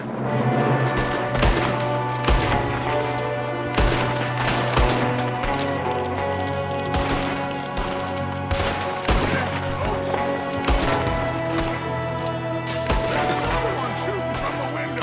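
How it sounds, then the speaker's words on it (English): Heavy gunfire in a Red Dead Redemption 2 mission shootout, with rapid overlapping shots from someone firing out of a window, set over a continuous musical score and game ambience throughout. "Someone shooting from the window."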